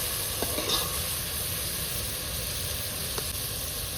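Onions frying in a pan for a fish gravy, a steady close hiss and sizzle throughout with a couple of faint stirring clicks.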